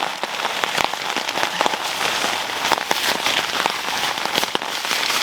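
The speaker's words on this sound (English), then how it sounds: "The rain is really coming down." Heavy rain drums steadily and loudly on a camping tarp in a fall campsite, with dense pattering and occasional sharper drop impacts close by and no talking.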